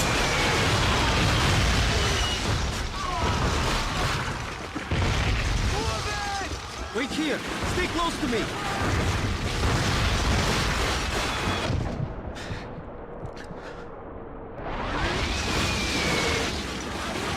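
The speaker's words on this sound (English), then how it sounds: "You hear the incoming whistle of the artillery? The explosion will not be far off." Loud, dense World War II battle audio from the video game Call of Duty: Finest Hour, with repeated artillery explosions and booms over continuous rumble, and in-game voices giving short commands.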